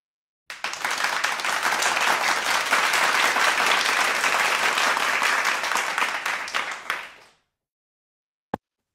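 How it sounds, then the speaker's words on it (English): A round of applause greets a visual artist as the community welcomes him, a loud, full burst of many hands clapping for about seven seconds before stopping abruptly, followed by silence and one sharp click. "Everybody give him a round of applause."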